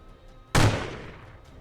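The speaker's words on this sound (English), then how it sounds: "then shoot this zombie" A single loud gunshot fires at a zombie in the Warhammer Quest video game, a sharp blast with a fading tail over a quiet background.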